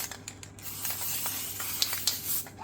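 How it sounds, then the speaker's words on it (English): Borax solution sprayed from a hand spray bottle onto a polystyrene egg: quiet, close hissing spritzes with a few sharper pump squirts standing out, no talking. "Maybe it's easier if I just hold it and spray it."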